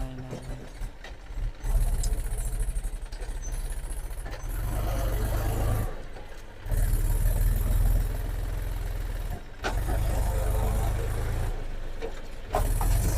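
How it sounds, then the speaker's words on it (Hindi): A Massey tractor engine strains and labors as it slips on a muddy road in the rain, a loud, heavy low drone that surges and drops with brief pauses. "रास्ता ख़राब हो रहा है, ट्रैक्टर स्लिप हो रहा है,"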